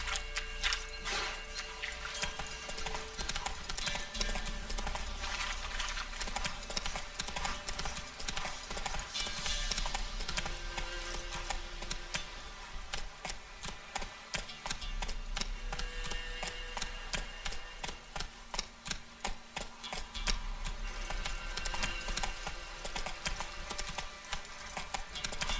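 Roach the horse gallops in Witcher 3 with a rapid, rhythmic clip-clop of hooves that runs continuously and fairly close, over a steady game soundtrack.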